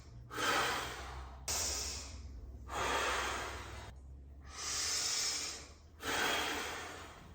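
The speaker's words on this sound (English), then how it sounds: "Then I'm going to take some deep breathing exercises." Slow, deep breaths during a foam roller exercise for rib and upper thoracic pain, five long airy inhales and exhales in a steady rhythm, close and fairly loud with short pauses between them.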